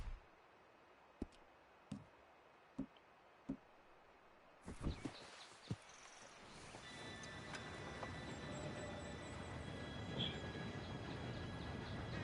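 Train in Red Dead Redemption II approaching through quiet outdoor ambience with faint ticks and clicks, then a loud rumbling roar swells in and builds steadily, with a high whistle-like squeal near the end.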